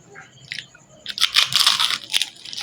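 Biting into crispy fried alugbati (Malabar spinach): a few sharp, close crunches followed by a dense burst of crackling chewing, loud and brief with no talking.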